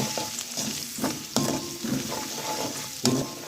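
Garlic and slit green chillies sauté in a pan, crackling with an even sizzle while a utensil stirs and scrapes in repeated soft knocks, close up and without speech.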